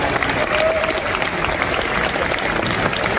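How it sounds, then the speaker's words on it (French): Loud, sustained applause from a business event audience as the organising team comes on stage, a continuous dense clatter of many hands with faint voices underneath. "je vais demander à l'équipe de venir sur scène avec moi. Vous allez les applaudir."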